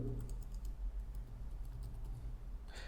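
Quiet, steady tapping of fingers on a computer keyboard as a command is typed, soft rapid clicks close by over low background hum, with no talking.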